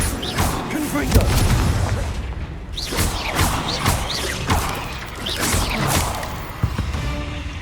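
Confringo fire-spell blasts in Hogwarts Legacy, a series of sharp booming impacts and whooshing bursts across a busy game battle, with crashing hits recurring every second or so over a dense mix.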